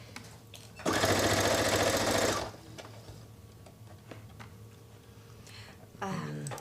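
A sewing machine runs in a fast, loud burst for about a second and a half, then stops; faint stitching resumes briefly near the end.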